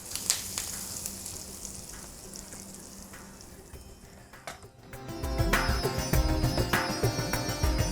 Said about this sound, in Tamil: கருவேப்பிலை மேலேயே இந்த எண்ணெயை விட்டுடலாம்